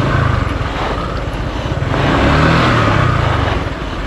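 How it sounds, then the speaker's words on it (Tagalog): A motorcycle climbs a wet mountain road from Aningalan to Igtuble, its engine droning loudly and steadily under heavy wind rush, the pitch lifting briefly midway as it strains on the slippery surface. "Dumudulas yung motor natin, boy."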